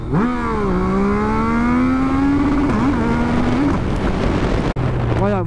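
A Yamaha MT-09 sport motorcycle in sport mode revs hard and holds a loud, rising roar with harmonic whine, then settles to a lower idle after a brief cut.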